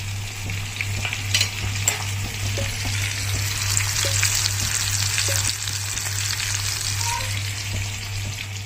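Oil heats in a frying pan on a stove, giving a steady crackling sizzle with scattered pops over a low constant hum, while preparations are made for frying tilapia.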